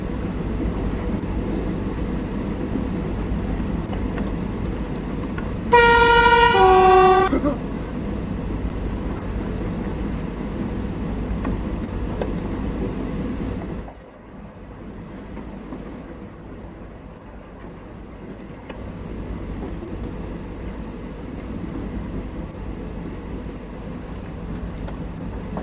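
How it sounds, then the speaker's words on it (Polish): A train rumbles along steadily with a loud horn-like tonal blast early on, then the noise drops as it passes into a quieter, steady rolling drone. "Naprawdę, tak jak prawdziwy pociąg."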